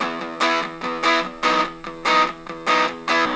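Electric guitar through a homemade distortion pedal on its lowest setting, light distortion, plays a rhythmic repeated riff of chords and bends, fairly loud and close, no voices.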